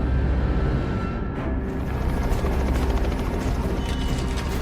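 A helicopter's rotor thumps steadily with a loud mechanical roar, a continuous rhythmic chop filling the scene in an action film.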